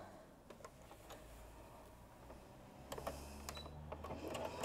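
A sewing machine stitches the fourth side of a puff quilt, soft and fairly distant, with a faint low motor hum and a few brief mechanical clicks and rattles building toward the end; no one speaks.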